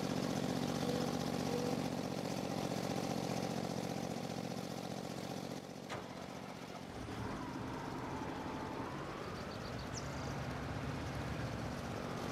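A tractor engine in the Farming Simulator video game drones steadily and close up as the auger is raised, with a brief shift in pitch midway and then a continuing even rumble.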